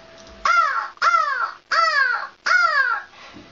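An Australian girl imitates a crow with her voice: four loud, harsh caws in an even rhythm, close and clear, with brief pauses between them.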